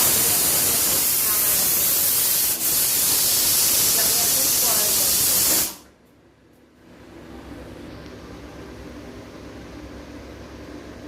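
A pressure cooker cooking kabuli chana vents steam in a loud, steady rushing hiss for about six seconds, then cuts off abruptly, leaving only quiet room noise.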